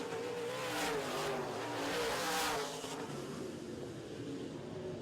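Modified race cars run on a track at a distance, their engines blending into a roaring, rising and falling rush as the cars pass, fairly faint and without talk.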